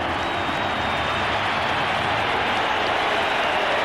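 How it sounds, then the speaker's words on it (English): A packed rugby stadium roars after the Wallabies beat the All Blacks, a dense, steady wall of cheering and applause that holds loud and unbroken throughout. "Listen to this crowd."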